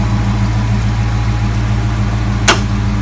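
A 2010 Dodge Challenger idling loudly, a steady low rumbling engine drone with an even pulse, close by and constant, with one brief sharp click near the end.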